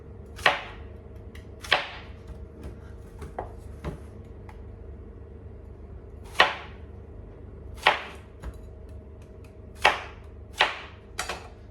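A knife chops through plantains on a cutting board in separate, uneven strokes, each a sharp thud with pauses between.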